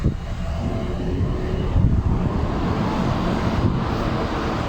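A large chiller blower fan pulls cool air for ducting through a building, giving a steady, broad rushing roar that holds evenly throughout with no voices over it.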